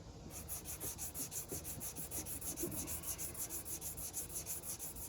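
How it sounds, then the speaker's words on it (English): Sandpaper of 320 grit rubs back and forth across a custom automotive paint job in a steady, even rhythm, close and continuous. "we're going to sand it with some 320"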